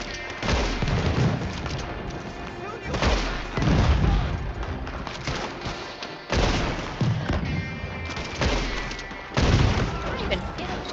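Red Dead Redemption 2 Online shootout, a steady wash of repeated booming gunshots and rumble in waves every couple of seconds, with talking mixed in.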